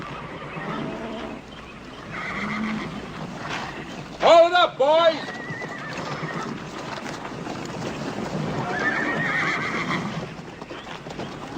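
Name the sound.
horse neighing and whinnying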